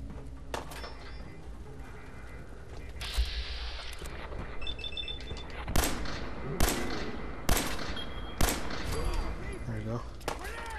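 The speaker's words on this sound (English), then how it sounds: "Who the fuck is shooting at me?" Gunfire in the video game Fallout 4 during a raid on the Corvega assembly plant, with sharp bursts and rattling volleys at irregular intervals, some close and loud, under someone talking.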